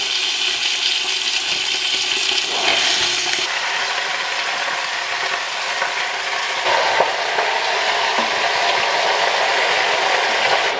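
Water pours steadily into a big pot of chicken being cooked down for gumbo broth, a continuous close rushing splash with faint clinks, no voices.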